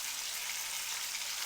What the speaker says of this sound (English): So we've got bacon deep fried in bacon grease.